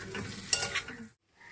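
Capsicum and green chillies sizzle in a pan with ground coriander and cumin as they are stirred, giving a brief, faint hiss and scrape that cuts off abruptly into near silence.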